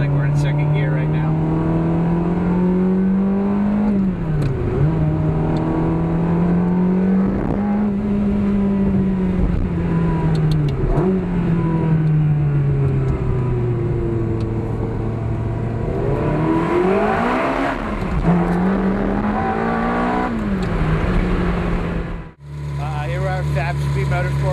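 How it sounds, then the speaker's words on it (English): A stock 2000 Ferrari 360 Modena coupe with a Fab Speed Maxflo exhaust, sport muffler and dual tips pulls hard in second gear, heard from inside the cabin, its steady engine drone rising and dipping through several throttle changes before cutting off abruptly. "We're going to give you a sound clip inside. Let you hear what it sounds like. We're in second gear right now."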